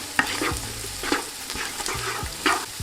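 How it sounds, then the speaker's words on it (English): Garlic is stirred into onions frying in a pot, with a spoon scraping in several strokes over a continuous sizzle, close and clear with no talking. "we're gonna throw in our garlic and give that a mix."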